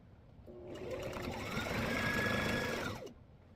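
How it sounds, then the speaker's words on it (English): A sewing machine top-stitches the tops of pocket pieces for a fabric ruler organizer, one close, even whir that starts, runs about two and a half seconds and stops. "we are just going to top stitch the top so this flap stays down"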